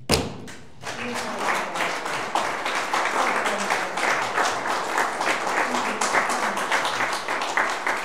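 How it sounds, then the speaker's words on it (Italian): Applause from an audience at an Italian lecture on the queens of Naples, beginning after a brief pause and continuing as steady clapping with some louder, sharper individual claps mixed in. "Meritatissimo applauso"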